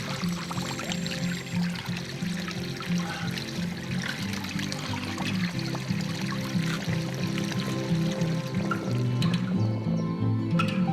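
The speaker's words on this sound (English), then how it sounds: "there's ancient springs with pure mountain drinking water, just like this one over here" Water pours and trickles steadily from an ancient stone-carved mountain spring in a granite village, a close, continuous splashing flow with small drips over it and no voices.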